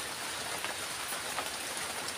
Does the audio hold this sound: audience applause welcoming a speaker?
no